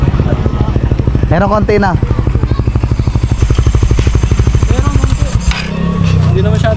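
Suzuki Raider 150 Fi motorcycle with a Vmax standard elbow pipe revving during a misfire test, a loud close rapid engine pulse that rises and falls, with people talking over it.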